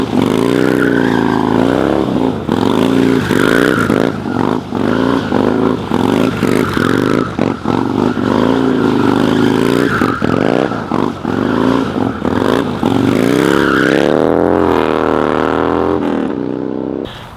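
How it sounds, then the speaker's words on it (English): Two motorcycles run side by side, a Harley-Davidson Dyna FXDX idling a little rough and an Indian FTR, with a loud, close, continuous engine drone that repeatedly rises and falls as the throttles are blipped. "I'll admit the Harley's sounding a little rough."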